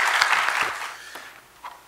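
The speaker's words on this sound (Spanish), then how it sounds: "Un aplauso, por favor." Loud burst of audience applause at a good-practices awards event, dense clapping that quickly fades to a few scattered claps.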